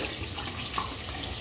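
Tap water runs steadily into a sink during handwashing, a close, continuous splashing stream with no talk.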